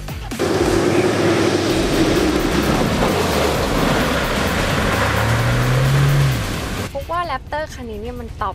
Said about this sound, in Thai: เห็นไหมเสียงเครื่องก็ตอบสนองให้มันรู้สึกเหมือน มันดิ้นดิ้นอะ